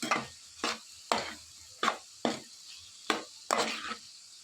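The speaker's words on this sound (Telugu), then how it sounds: "సరిపడా కారం వేసుకుని ఇదంతా కూడా బాగా మిక్స్ అయ్యేలా కలుపుకోవాలి" Chili powder stirred into a cucumber and dried fish curry, about seven sharp scraping strokes of a spoon against the pan at an even pace, close and distinct with faint quiet between them.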